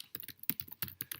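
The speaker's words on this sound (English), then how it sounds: "I'm going to be typing everything here" Someone types on a computer keyboard, a quick irregular run of crisp, close key clicks and taps.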